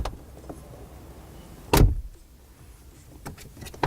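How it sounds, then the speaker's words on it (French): Mercedes car door on a show stand at the Paris Motor Show shuts once with a single solid thud midway, followed by quieter mechanical clicks amid faint hall ambience. "Là, tu as les petites fermetures de porte, comme à l'ancienne, comme l'ancien."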